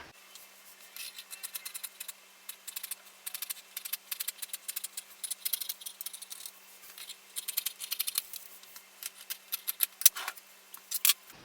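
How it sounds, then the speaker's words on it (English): Scissors snip steadily through fabric along a drawn costume pattern, a close series of quick crisp cuts with brief pauses and light rustling of the cloth. "I'm just going to cut the pattern out of the fabric"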